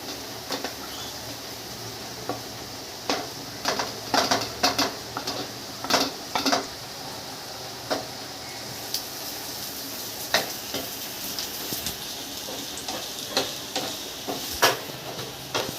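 Carrot and onion sizzle in a little hot oil, a steady frying hiss broken by scattered spatula stirs and clinks against the pan, close and moderately loud with no talking.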